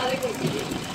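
A hand-cranked Butterfly sewing machine runs in a steady mechanical whir inside a small custom Panther campervan being fitted out, heard close with continuous rhythmic rattling under a voice talking.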